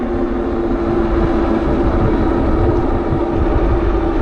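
Hitway BK29M electric bike climbing a 6 to 8% asphalt hill on throttle alone, a steady motor and road drone with wind rumble, continuous and fairly loud with no talk.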